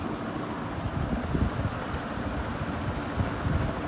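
Industrial ceiling fan of the Jamaica Wind type running steadily at its fourth speed setting, a loud continuous broadband whoosh of rushing air with slight fluctuations and no voices.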